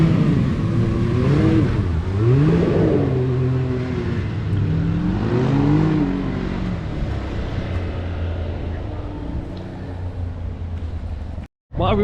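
A Can-Am off-road vehicle drives through the water at Rufford ford, its engine revving up and down loudly and close in several surges before settling into a steadier drone, with voices talking over it.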